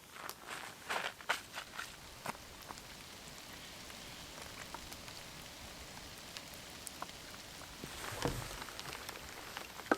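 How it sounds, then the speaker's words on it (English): Rain patters steadily on the ground during a hike in the far north, faint and continuous, with scattered crunching footsteps and occasional sharper drops over it. "so I'm not surprised at all that it started to rain"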